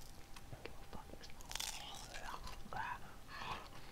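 Hard sour ball candies being crunched and bitten close to the mic, a series of sharp irregular cracks and chews with breathy murmuring between them.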